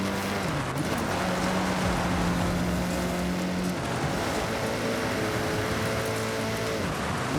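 A Mitsubishi car with a B700 tune races on a gravel circuit in Forza Horizon 6. The engine drones steadily and shifts pitch under a constant loud hiss of gravel spray and tyre noise.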